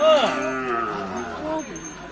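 A cow gives one drawn-out, wavering moo close by at a livestock market, loud at first and then tapering off.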